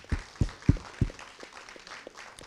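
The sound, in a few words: audience applause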